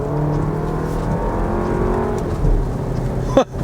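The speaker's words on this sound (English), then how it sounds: "Who knew that a 4-cylinder could sound this good?" A 2017 Porsche Macan with a four-cylinder engine revs steadily up close, its tone rising and holding before cutting off sharply near the end.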